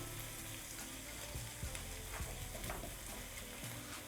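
Ginger garlic paste fries for a chicken karahi with a continuous soft sizzle and faint crackle, low in level and steady throughout, with no talking.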